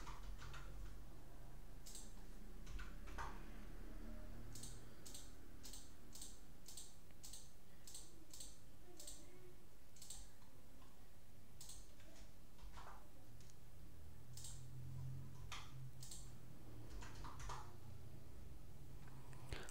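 Keys tapped on a computer keyboard while entering values into medical risk-calculation software, a run of light, separate clicks in uneven bursts over a low background hum, close and fairly quiet, with no talking.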